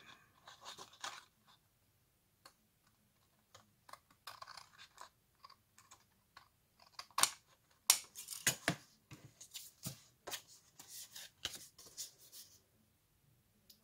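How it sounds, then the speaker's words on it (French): Scissors trimming excess paper from a handmade card, a close, quiet series of irregular snips and crisp paper rustles, sparse at first and then coming in denser bursts. "Je vais redécouper l'excédent de papier."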